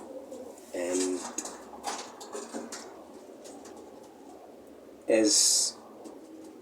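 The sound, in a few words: racing pigeons cooing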